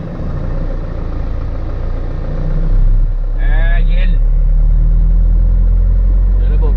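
A four-wheel pickup truck idles and pulls away, its medium engine rumbling steadily and growing louder and deeper as it starts to move, with a voice speaking briefly over it.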